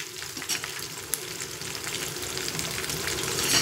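Tempering for ginger chutney, with curry leaves and turmeric, sizzles steadily in a hot pan of oil, a close, continuous crackling fry with occasional stirring.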